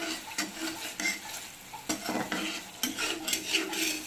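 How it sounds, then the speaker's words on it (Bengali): Snakehead fish (shol) being sautéed in a pan for a spicy Bengali kosha, with steady sizzling and a utensil repeatedly scraping and stirring against the pan, close and fairly loud, no talking. "দিয়ে এখন ভালো করে কষানো চলছে"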